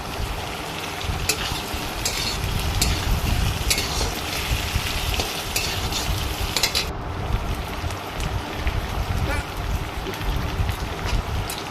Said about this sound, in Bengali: পেঁয়াজটা ভালো করে ভাজা হয়ে গেলে আলুটা দিয়ে দেবো, দিয়ে একটু ভাজা ভাজা করে নেব